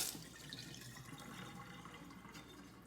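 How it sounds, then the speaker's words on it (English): Drained beans are rinsed under running tap water, a faint, steady splashing and trickle in a sink that continues evenly for a few seconds with no talking. "I'm just going to give this a quick rinse."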